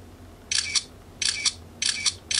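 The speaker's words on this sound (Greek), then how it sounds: "Πολύ γρήγορο το κλείστρο." A Xiaomi Redmi Note 4 phone camera fires its shutter four times in quick succession, each a crisp double click close to the microphone, spaced evenly over a faint background hum.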